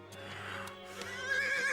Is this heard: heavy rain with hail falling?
no